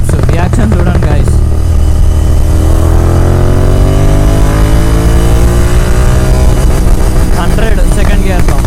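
A GT 650 motorcycle accelerates hard in first gear, its exhaust rising steadily in pitch, then pops and crackles near the end, all loud and close.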